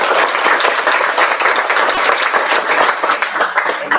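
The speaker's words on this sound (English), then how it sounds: "So if you join me in an applause." An audience at a school district staff recognition ceremony claps steadily for an honoree, a loud continuous round of applause from a large crowd that holds for the whole stretch.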